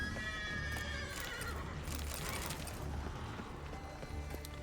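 Roach, a horse in the video game The Witcher 3, gives a loud whinny over continuous galloping hoofbeats and a rumbling game soundtrack, with no talking.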